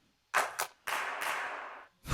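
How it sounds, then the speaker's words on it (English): Clap sample auditioned during music production: two short sharp claps, then a longer clap with a drawn-out, noisy tail that fades before another clap starts, each standing alone against silence. "It's the clap sound."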